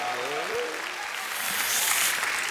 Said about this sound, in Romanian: Hai, mă, aplaudați, că și la spectacol ați făcut la fel.